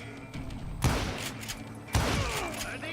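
Two heavy gunshots, about a second apart, from Old West firearms in the video game Call of Juarez: Gunslinger, each a loud booming crack over a murmuring game background.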